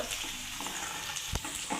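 Onion frying in hot oil as the tempering for a tava egg masala, a steady broadband sizzle with a few brief stir and clatter bursts, close and moderately loud.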